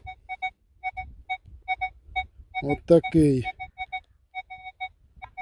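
A Legend WHP PRO metal detector sounds a low-VDI target tone while digging at an old farmstead, repeating short, clear, evenly spaced beeps; someone speaks briefly in the middle.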